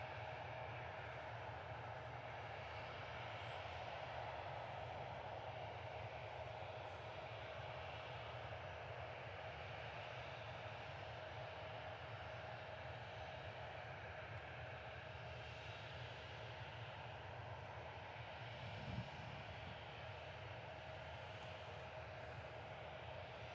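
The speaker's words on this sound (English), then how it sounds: "Next arrival in is going to be a United Express flight from Chicago, another Embraer 175." An Embraer 175 airliner arriving at Reagan National Airport produces a faint, steady distant jet roar and hum that lingers throughout, with a brief soft thump near the end.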